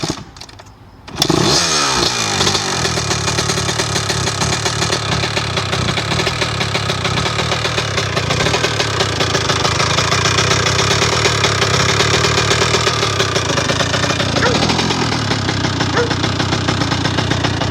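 A rebuilt 2000 Honda CR125 two-stroke motorcycle engine fires on its first cold start after a brief quiet moment, then settles into a loud, steady, close-up idle that runs continuously to the end.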